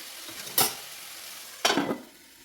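Sliced onions sautéing in a pan for a crab roast, with a faint sizzle and two short, loud bursts of stirring or scraping about a second apart, close by and with no talking.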